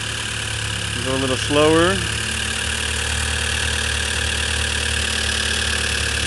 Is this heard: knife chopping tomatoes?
no